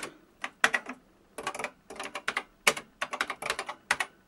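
Keys clatter on a vintage Memotech MTX500 computer keyboard in short, irregular bursts of crisp clicks with brief pauses between them, close and distinct in a quiet room.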